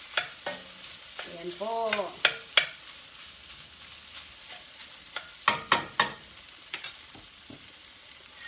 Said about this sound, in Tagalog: Lutuin natin sandali ang meat para medyo ma-brown siya.